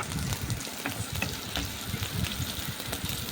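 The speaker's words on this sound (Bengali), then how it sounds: "পেঁয়াজগুলো ভেজে নিচ্ছি।" Onions frying in a pan give a steady, close sizzle with scattered crackles and pops running the whole time, with no voices.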